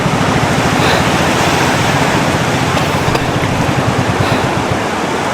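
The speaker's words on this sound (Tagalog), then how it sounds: "Lakas ng agos!" Strong river current rushing in a steady, loud broadband roar with constant churning water texture, close and unbroken throughout, no voices.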